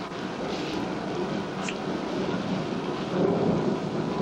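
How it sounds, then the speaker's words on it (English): A thunderstorm brings very heavy rain, a dense constant roar of downpour with low rumbling thunder beneath it and a few sharper drips, loud and steady, with no voices. "I have never seen it rain this hard."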